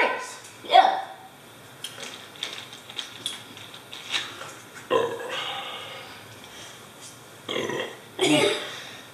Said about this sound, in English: Oh, now you're going to burp in.